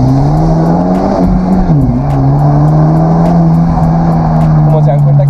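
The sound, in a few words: Hyundai Genesis Coupé 2.0T turbo straight pipe exhaust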